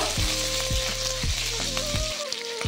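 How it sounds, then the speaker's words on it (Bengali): Ginger paste fries in white oil with a pinch of asafoetida in a pan, a loud, close, continuous sizzle broken by several short scraping stirs. "আদা বাটা দিয়ে দেব, আদাটাকে হালকা করে ভেজে নেব"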